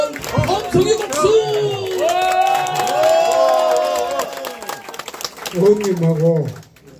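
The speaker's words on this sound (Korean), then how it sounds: "한번 함성의 박수!" Campaign rally crowd at a Korean presidential candidacy declaration cheers and claps loudly after the announcer's prompt, a sustained roar of voices over scattered clapping, with an amplified announcer's voice speaking at the start and end.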